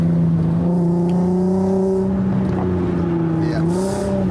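Cabin drone of a Mk3 Volkswagen Golf R32 while driving, with the belt removed. A loud, steady hum holds near-constant pitch with a slight dip near the end.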